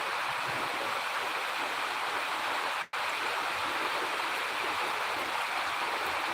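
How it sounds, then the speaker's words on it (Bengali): Steady rain pours down in Dhaka, a dense, even hiss that holds constant throughout, interrupted by one brief dropout near the middle. "বৃষ্টি শুরু হয়ে গেছে বৃষ্টি পড়ছে"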